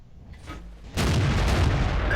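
A heavy tank cannon fires in World of Tanks from a Panther Tier VII medium tank, a single sudden loud boom that erupts after a quiet moment and rumbles on through the rest of the clip.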